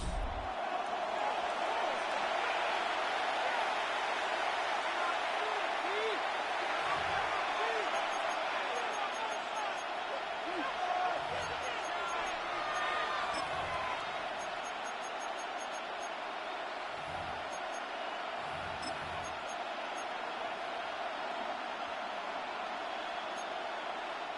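Stadium crowd roar from an EA Sports NFL football video game during a tight defensive battle, a steady broadband wash of cheering that holds loud throughout, with faint low thumps and no clear talk.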